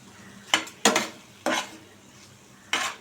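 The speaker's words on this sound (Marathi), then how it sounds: "प्लेट काढून घेतली मी" A plate lid is lifted off a pan of tomatoes cooking over a high gas flame, giving four sharp metallic clinks and scrapes spaced over a few seconds, with a faint sizzle underneath and no talk.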